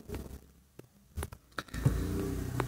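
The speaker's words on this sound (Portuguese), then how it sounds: "O carro passando." A car passes by outside: a few light clicks and knocks, then the engine's rumble swells and holds in the final second or so, moderately loud and close.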